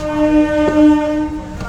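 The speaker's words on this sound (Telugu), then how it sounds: "రైలు వెళ్ళటం చూస్తున్నాం" A passenger train bound for Repalle sounds a loud, sustained horn as it passes at Vemuru in the evening, with a low rumble of the rail cars underneath.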